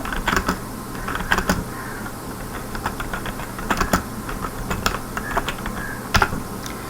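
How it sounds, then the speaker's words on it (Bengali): Someone types a C program on a computer keyboard, the keys clicking in scattered bursts of close, crisp taps, with a few louder strokes and short pauses, alone with no talk. "এখন আমি লিখব দিস ইজ ফার্স্ট প্রোগ্রাম"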